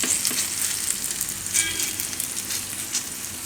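Bottle gourd and potato uttapam pancake sizzling steadily in oil on a pan over a low gas flame, a continuous close, even crackle and hiss with no talk.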